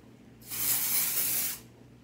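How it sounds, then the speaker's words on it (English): Dry shampoo sprayed onto clean curled hair: a single close, loud aerosol hiss lasting about a second, rising and fading sharply, with no talking. "we have dry shampoo, so we're gonna... I have clean hair, but sometimes you gotta throw some in there"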